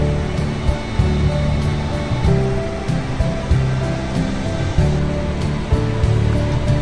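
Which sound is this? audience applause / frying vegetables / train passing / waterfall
waterfall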